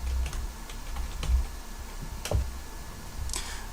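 Soft, sparse clicks of typing on a computer keyboard, a handful of separate keystrokes, faint and close in a quiet room.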